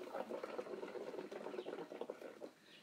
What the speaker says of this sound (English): So now we're going to blow our bubbles